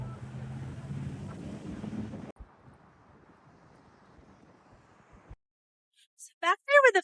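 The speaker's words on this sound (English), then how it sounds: "it's really windy today" Strong wind buffets a microphone outdoors in downtown Oklahoma City, rumbling loudly for a couple of seconds, then easing to a softer rush before dropping out, followed by a brief burst of talking.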